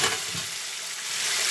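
A potato and pointed gourd curry is stirred in a pan just after water goes in, a brief close sizzle with a couple of soft stirring scrapes lasting under two seconds.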